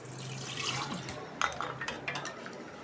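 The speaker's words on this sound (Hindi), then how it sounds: "अभी हम इसको गिलास में डालते हैं" Mint sharbat being poured into a glass, a quiet liquid trickle followed by a few light clinks of glass, close and soft, with no talking.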